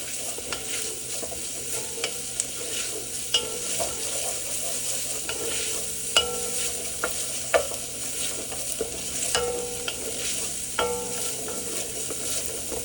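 Onions fry in a pot while a utensil stirs them, a constant sizzle broken by repeated clinks and scrapes against the metal at an uneven rhythm, close and without talk.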